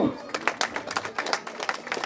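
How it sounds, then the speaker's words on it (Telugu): Applause from a women's group at a local rangoli competition event, a short burst of scattered, uneven clapping heard close and mid-volume, with a voice talking over part of it. "చప్పట్లు"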